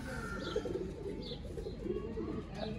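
Chapra pigeons, a grey male and a female paired in a cross, coo softly in low repeated throaty phrases over a steady background hum, with faint chirps now and then.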